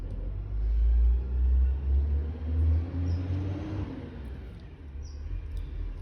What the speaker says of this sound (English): Sorry about the garbage truck.